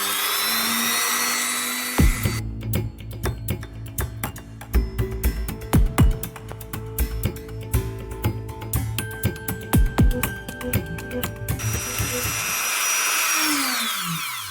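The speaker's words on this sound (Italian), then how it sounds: "E ora andiamo a forare." A small hobby drill bores holes through a homemade printed circuit board with a 0.8 mm bit, spinning up after a quiet start and then whining steadily with repeated short pitch dips and crackles as each hole is cut, before winding down near the end.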